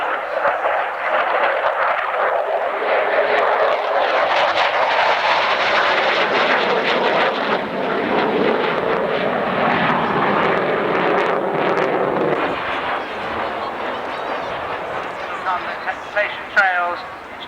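A jet aircraft weighing about 20 tons roars past at a 1991 Cold War airshow at Alconbury, a broad sustained rushing engine noise, loud and steady, with an announcer talking over it.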